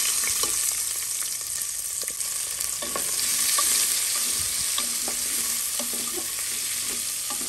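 Garlic and roughly cut onions frying in a pan for hotel-style egg curry, a steady close sizzle with scattered stirring clicks and scrapes throughout, no talking.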